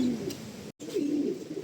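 Breeding pigeons or doves cooing nearby in a low, rolling murmur, with a brief gap in the middle.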